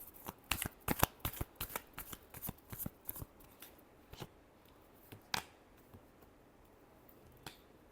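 A deck of tarot cards is shuffled, giving a quick burst of sharp riffling snaps that thins out into a few isolated flicks, close and fairly quiet.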